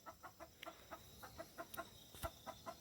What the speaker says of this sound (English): You're making the chickens go crazy.